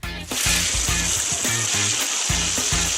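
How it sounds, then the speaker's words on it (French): Water pours and splashes steadily, loud and close, like a shower running. A rhythmic low thumping pattern plays underneath, and no one speaks. "Une douche rafraîchissante ne fera de mal à personne."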